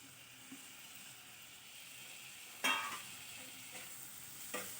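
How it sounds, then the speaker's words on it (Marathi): Finely chopped tomatoes sauté in a hot pan for an egg masala, giving a steady, quiet sizzling hiss broken by a few sharp scraping clicks of stirring. "टोमॅटो पण छान परतून घेऊया।"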